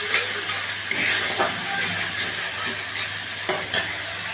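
Spices and salt stirred in a hot cooking pan, a steady frying sizzle with a few scraping strokes of the spoon, close and continuous with no voices.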